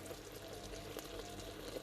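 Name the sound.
pouring cooking wine into pork belly braise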